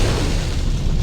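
A deep, rumbling blast of dynamite in rock fills the moment, a dense low roar of an explosion heard briefly and loudly without other sounds.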